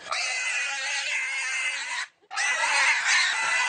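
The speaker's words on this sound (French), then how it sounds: "Parfois, ils couinent un peu, mais ce ne sont que des cochons." Pigs fetched from a neighbouring farm squeal loudly and continuously in two long bursts, close by and shrill, with a brief gap of silence between them.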